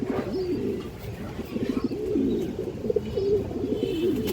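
Healthy breeding pigeons kept at home, cooing repeatedly in soft rolling phrases close by, several overlapping calls with a faint chirp or two in the background.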